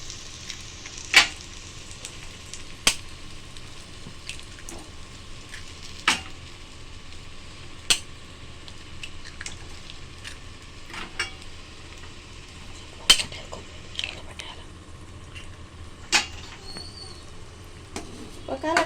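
Eggs frying in oil in a pan for homemade egg noodles, a faint steady sizzle broken by sharp clicks and taps of a utensil against the pan, with no voices.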